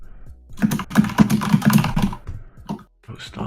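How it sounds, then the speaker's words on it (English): Rapid computer keyboard typing clatters loudly at close range, a dense burst of key strikes that thins into scattered taps. "stop spamming your keyboard"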